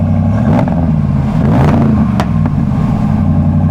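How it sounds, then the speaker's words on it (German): A motorhome engine at close range runs at a loud, rough idle, then revs briefly with a couple of throttle blips and falls back to a throbbing rumble, with no talk. "Bitte mal kurz Gas geben."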